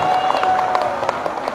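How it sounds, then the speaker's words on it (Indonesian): An audience at a political campaign gathering breaks into applause, a dense, steady wash of many hands clapping at moderate distance, with crowd voices mixed in. "Tepuk tangan untuk Pak Ganjar Mahfud."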